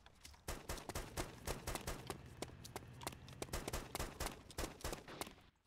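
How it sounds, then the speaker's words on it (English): Rapid bursts of AS-50 sniper rifle and other gunfire in an online multiplayer shooter game, sharp repeated cracks crowding together at steady close range with no pause across the stretch. "Someone's firing an AS-50."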